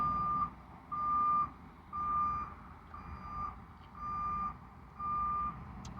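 A reversing truck sounds its backup alarm, a steady series of six or seven evenly spaced electronic beeps at a moderate distance with no talk.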